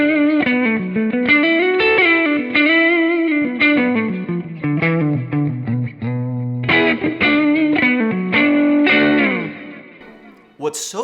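A 1967 Gibson-style 335 electric guitar plays through a Kemper Kone speaker cabinet, giving a clear, driven melodic line with sustained notes, bends and chords, loud and close with some distortion and ambience.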